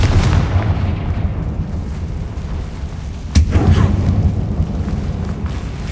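A Confringo blasting spell goes off in Hogwarts Legacy with a sudden sharp burst, a single loud crack over steady rumbling game ambience, followed by a lingering low roar.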